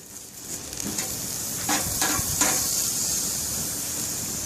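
Ribeye steaks sizzle in a hot grill pan with a steady bright hiss, briefly interrupted by a few soft scrapes and bursts as the meat is moved, close and alone.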